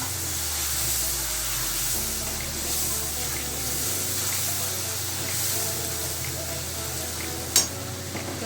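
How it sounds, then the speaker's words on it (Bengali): Onion and tomato paste goes into a hot pan for soyabean curry and sizzles steadily, a constant hiss with a low hum beneath it. One brief sharp clink comes near the end. "এখানে আমি পেঁয়াজ আর টমেটো বাটাটা দিয়ে দিচ্ছি।"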